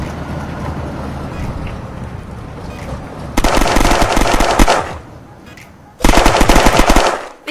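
Bursts of automatic gunfire in the video game Unturned, two loud sustained volleys of rapid shots with a pause between them, over a dull background rumble.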